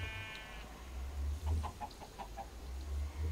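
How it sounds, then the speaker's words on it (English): A chicken in the Minecraft Feed The Beast modpack gives a quick run of short clucks over a low, steady background hum. "Unless I clicked on the bloody chicken."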